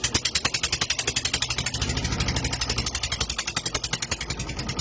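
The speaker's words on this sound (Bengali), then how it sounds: "তো নৌকা আমাদের স্টার্ট দেওয়া হলো" A fishing boat's engine starts and runs on the Ganges, a loud, steady rapid chugging with a strong pulsing rhythm close by, and brief voices under it.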